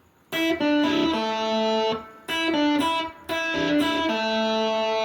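A short electric guitar phrase of picked notes, three bursts with sustained ringing tones and brief gaps between them, played alone.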